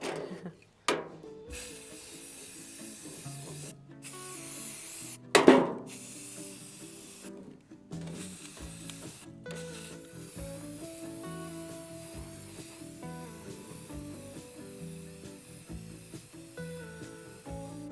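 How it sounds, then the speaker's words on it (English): Short hissing bursts of quick-drying 15-minute black enamel spray paint coat the inside of a dollar store decor item, coming in several separate puffs over steady background music. "So I'm gonna need to spray the inside of it also."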